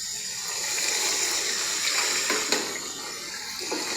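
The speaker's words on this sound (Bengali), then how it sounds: "সীমিত গরম পানি দিয়েছি।" Hot water poured into a pan of potato curry, a steady gushing splash with a faint sizzle beneath, close and continuous for the whole stretch, no voices.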